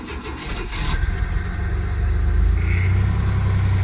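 A Chevy Blazer truck with a 350 V8 and manual transmission cranks and starts, then settles into a steady, loud, close-up idle with a deep low rumble and no voices.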